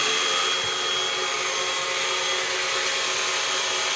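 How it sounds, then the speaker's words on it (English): A 2x72 belt sander driven by a liquid-cooled 220-volt 24,000 RPM spindle motor runs with a steady, fairly quiet high-pitched whine and whoosh, constant throughout with no talk. "So I'm going to go ahead and put the start button."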